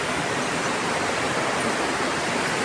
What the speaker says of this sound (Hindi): तो ये रही वो नदी